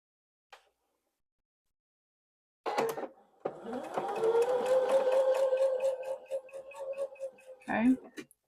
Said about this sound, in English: I'm gonna sew this top together.